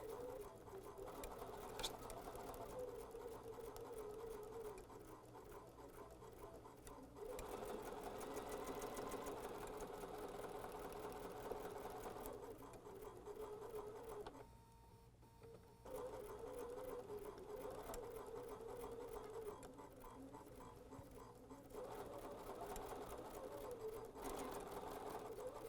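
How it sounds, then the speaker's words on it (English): A sewing machine stitches fabric for foundation paper piecing, a fast, steady, quiet mechanical whir and patter that runs almost the whole time, briefly easing off near the middle before resuming, with no talk. "I'll sew from this side so I can keep my eyes on those seams"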